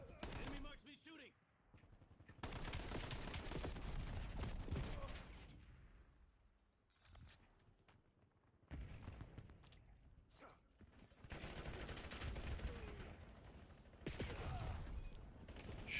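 Bursts of rapid automatic gunfire from a Call of Duty Black Ops 7 multiplayer match crackle in long stretches, broken by quieter gaps, with a voice talking at times over the action.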